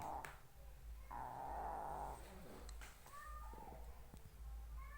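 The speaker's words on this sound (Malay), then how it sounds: "Kucing rumah, kucing rumah." A house cat gives a few short meows and throaty calls over a steady low background rumble, close and moderately loud.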